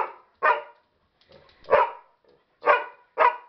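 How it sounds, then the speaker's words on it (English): A dog gives a series of sharp barks close by, about five bursts spaced irregularly with quiet gaps between, some with a whiny, yipping edge. "He's a big dog now."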